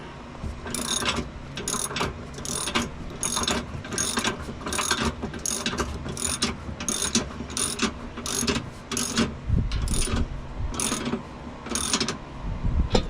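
Socket ratchet tightening a nylon lock nut on a heavy-duty steel 2-inch receiver trailer hitch on a 2018-2025 Jeep Wrangler JL, close rhythmic clicking bursts repeated in quick strokes, no talk.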